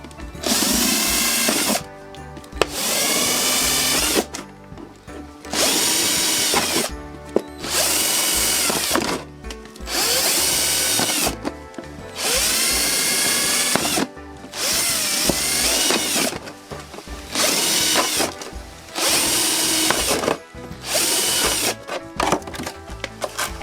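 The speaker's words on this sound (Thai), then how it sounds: "เจาะรูด้านล่างนะคะ" A drill bores holes into the bottom of a plastic milk bottle being turned into a plant pot. It comes in loud, repeated bursts of a second or two each, close up and with no voices.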